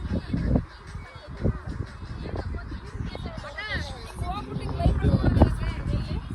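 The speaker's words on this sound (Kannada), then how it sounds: "ಹಂಗೆ ಹಕ್ಕಿಗಳು ರೆಡಿ ಆಗಿದ್ದಾವೆ ಓಡಕ್ಕೆ, ಹಾರಕ್ಕೆ" Geese or other fowl honking in a noisy outdoor spot in Munnar, Kerala, irregular calls mixed into lively nearby chatter and crowd babble that dominates much of the time.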